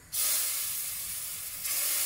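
Steam hisses sharply as air is released from a pressure pot while making soup in a kitchen, a steady loud spray that starts suddenly and continues for about two seconds.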